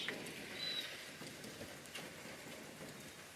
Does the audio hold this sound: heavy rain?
yes